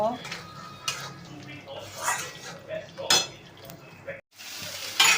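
Small prawns stirred into a frying spice paste for a prawn malai curry, with a spoon scraping and clinking against the pot in irregular bursts over a low sizzle, close and moderately loud.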